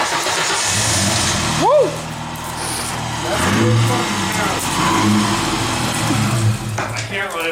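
A Mazda RX-7 rotary engine running and revving close by, its steady drone rising and falling, with people talking and a cheer over it.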